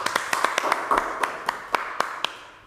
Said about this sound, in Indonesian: tepuk tangan lu buat Ucup Nirin